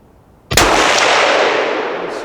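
A single loud rifle shot fired offhand at a target, a sharp close crack followed by a long ringing echo that fades slowly, with no talk.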